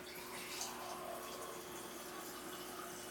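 Water pours steadily from a refrigerator's filtered dispenser into a drinking glass, a continuous close hissing stream with no talk.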